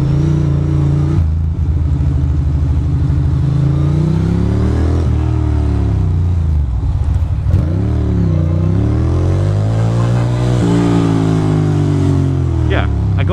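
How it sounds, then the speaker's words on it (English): A motorcycle engine drones steadily up close while riding a Brooklyn, New York street in winter, revving up and down through gear changes, loud and continuous throughout. "I'm riding a motorcycle in Brooklyn."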